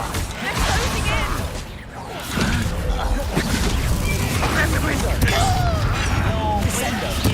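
Fire spell blasts and magical combat in Hogwarts Legacy, booming impacts and whooshes piling up loudly, with voices shouting over the chaotic battle.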